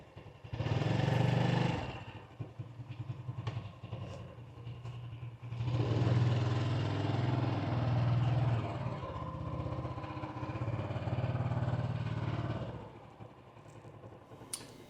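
A motorcycle engine revs in loud bursts then drops back to a throbbing idle, close by in a motorbike parking area in Vietnam, with no voices.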